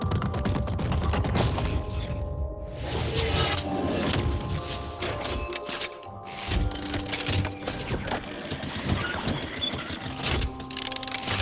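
Mechanical door in a hand-tracking VR game, creaking and grinding open with continuous ratcheting clatter, fairly close and without talk.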